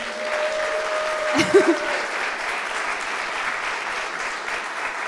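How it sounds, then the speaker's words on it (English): Steady applause from a keynote audience at Adobe's Substance Days Hollywood 2017 fills the whole stretch, a dense wash of clapping with a brief louder burst early on. "Let's have another round of applause for Sebastian."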